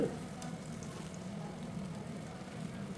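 Plain garelu, salted lentil fritters, frying in hot oil over a medium flame, giving a steady, moderately loud sizzle throughout with no talking.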